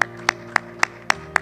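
A congregation claps in a church service, with six sharp, evenly spaced claps about a quarter second apart, crisp and fairly close over a low steady hum.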